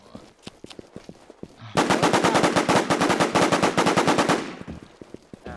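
A burst of rapid automatic gunfire in a video game, sharp repeated shots in a fast steady rhythm lasting a few seconds, preceded and followed by scattered single shots.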